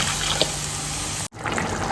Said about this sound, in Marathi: हवं तसं पाणी टाकून थोडं पातळ करून घ्या